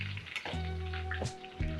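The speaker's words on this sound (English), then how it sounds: "Frying nicely." Thai chili chicken wings fry in hot oil, a steady bubbling sizzle broken by a few sharp clatters and pops, close and fairly loud with no talking.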